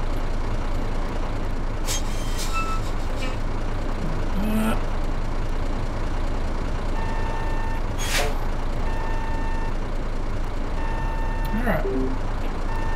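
Truck reversing beeps from Euro Truck Simulator, a few short repeated tones rising over a steady engine drone, with an air-brake hiss and a voice talking throughout.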